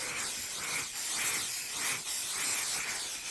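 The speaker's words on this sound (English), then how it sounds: "I'm just going to spray it." An aerosol spray can hisses onto quilting fabric laid out in a hoop, giving a loud, steady hiss broken by short pauses between bursts.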